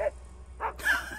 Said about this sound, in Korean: 밉시가 좌절감에 짖기 시작했다